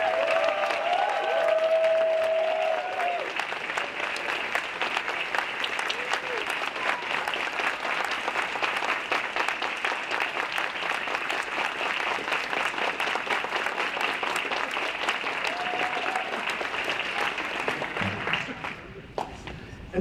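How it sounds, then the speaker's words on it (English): Sustained applause from a large audience honoring the volunteers at the Launch Canada 2023 closing ceremony, steady and dense for about eighteen seconds before fading, with a brief voice at the start. "can I just ask all of our volunteers to stand and get a big round of applause for all the volunteers who made this"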